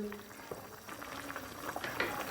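Pasta being stirred in a pot of boiling water for a baked pasta dish: a soft, steady bubbling with a few light knocks, moderately quiet and continuous, with no voices.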